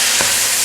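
Rice noodles for shrimp pad thai frying and being stirred in a pan, a loud, steady sizzle with a brief soft scrape of stirring, close and without talk.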